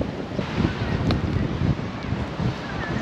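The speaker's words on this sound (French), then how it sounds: "On attend que le vent se calme." Wind gusting steadily across a tree-lined beach on Réunion, a continuous broadband rush that stays loud and fairly even with no voices.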